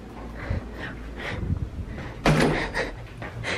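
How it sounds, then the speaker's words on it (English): A bathroom door in a Chicago apartment swings open and shut, giving a sharp thud partway through with quieter handling noises around it, close by and with no talking. "So the door is for the bathroom and the closet."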